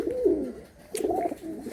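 A tournament pigeon coos close by, two soft throaty rolling phrases split by a short pause, with no voices.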